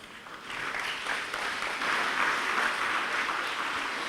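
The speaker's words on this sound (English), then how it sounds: "Give a shout and a round of applause to yourselves" An audience at a school music concert claps steadily, a dense wash of applause that builds slightly and holds at moderate loudness without speech.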